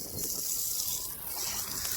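Water rushes steadily through household pipes after the main is turned back on, a continuous hissing flow heard alone, close and fairly loud.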